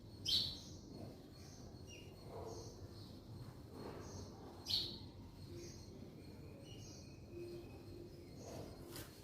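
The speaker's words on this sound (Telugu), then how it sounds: "బర్డ్స్ ఇక్కడ చిన్న గూడు కట్టుకున్నాయి, అరుస్తూ ఉన్నాయి బాగా." Birds chirp near a small nest in a garden planted with cosmos flowers, with a few sharp, bright calls rising above quiet outdoor background noise.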